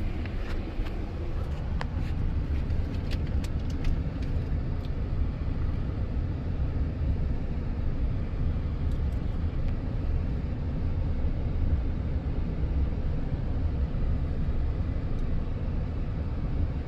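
A car drives along a road on a vacation trip, heard from inside as a continuous low engine and road rumble with steady wind noise and a few faint clicks early on.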